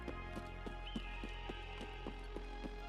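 Footsteps in the shooter game Escape from Tarkov form a steady, evenly spaced series of about ten soft thuds, faint and slightly reverberant over a constant low drone.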